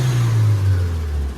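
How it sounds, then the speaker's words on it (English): Straight-piped Mustang GT New Edge engine with an HKS turbo blow-off valve, a loud close steady engine rumble holding at a fairly constant pitch for a moment, with no voices. "What turbo blow off is that, bro? That's the HKS blow off."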